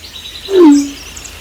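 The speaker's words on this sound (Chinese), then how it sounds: "在 logo 消失后的黑场里铺着2种音效，鸟叫声和手机短信的提示音" A single bird call in an animated feature soundtrack, a clear rising-and-falling chirp of about half a second, moderately loud and alone over a faint quiet bed in a black screen moment after a logo.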